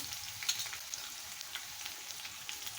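Green chillies fry in hot oil for poha, giving a steady, fairly quiet crackling sizzle with small pops scattered across the moment and no voices.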